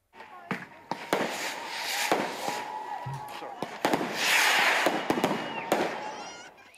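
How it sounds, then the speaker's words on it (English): Fireworks go off at a Cardiff vigil for three young victims, sharp cracks and pops scattered irregularly over a steady outdoor crowd murmur, moderately distant. "Fireworks were let off to pay tribute while crowds of people gathered"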